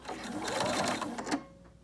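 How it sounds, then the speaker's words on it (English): A sewing machine stitches bias tape onto a homemade fabric dust mask in one short, steady burst of rapid needle chatter that stops abruptly after about a second and a half. "Take a few stitches, and then I'm gonna back stitch."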